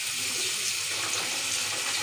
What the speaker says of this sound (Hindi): तो जब तक ये पानी भर रहा है,